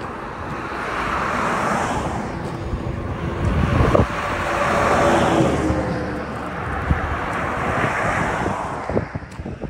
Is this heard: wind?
yes